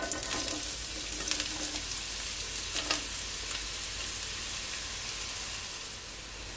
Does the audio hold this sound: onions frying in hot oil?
yes